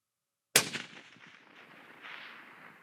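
A single loud rifle shot from a Savage rifle fitted with a drop-in trigger, a sharp crack followed by a decaying outdoor echo and quiet tail.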